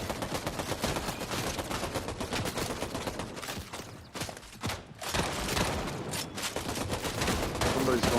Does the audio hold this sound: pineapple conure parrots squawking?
no